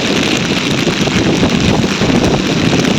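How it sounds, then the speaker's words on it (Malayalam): Strong coastal storm wind at Vadakara roars and buffets the microphone continuously, a loud, dense rushing noise with gusty swells and a low rumble of surf beneath, no voices. "കാറ്റടിക്കുന്നുണ്ട്."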